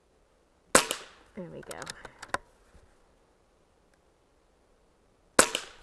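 Two loud, sharp cracks from an Air Venturi Avenger .25 air rifle ring out several seconds apart, close by, with a brief spoken remark and faint clicking between them.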